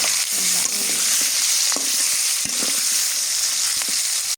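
Vegetables frying in a pan give a loud, dense, continuous sizzle, broken by the scrape and tap of a spatula every second or so, with no one speaking.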